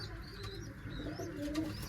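A pigeon coos softly nearby, a few low, rolling calls over a faint background hum, with light chirps from other birds.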